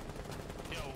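Gunshots fired at a window in the video game Rainbow Six Siege, a dense rapid burst of shots, faint and noisy over one second.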